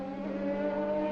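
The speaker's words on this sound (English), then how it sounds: "Lovely noise the BMW makes." BMW Le Mans prototype race car at the 1999 Le Mans race, its engine holding a strong, steady harmonic drone with a slight rising pitch, loud and clear with no talk over it.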